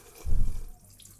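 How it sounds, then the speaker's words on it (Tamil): Water poured off soaking rice in a kitchen while rinsing grains for chicken biryani, a short soft splashing gush lasting about half a second, close and alone. "தண்ணியை வடிச்சுக்கிறோம்."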